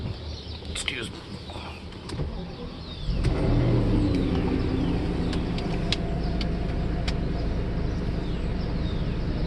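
A Mercedes S600 W140 with a V12 engine cranks and fires about a third of the way in, then settles into a steady, loud idle that holds evenly to the end, following a quieter stretch of background noise.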